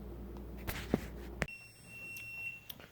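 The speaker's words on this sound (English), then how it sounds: "So now the timer has concluded" Electronic kitchen timer signalling that a batch of Cheddar Bay biscuits is done: a sustained high steady tone begins partway through and holds to the end, after a few clattering knocks near the start.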